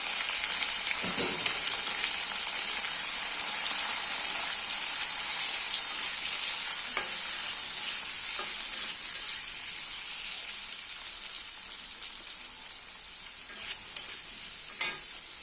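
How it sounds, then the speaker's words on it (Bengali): Boiled potatoes fry in hot oil, giving a steady close hiss of sizzling with occasional scrapes and light clinks of stirring throughout, and no talking. "তেল গরম হয়ে গেছে, দিয়ে দিচ্ছি আলুগুলো"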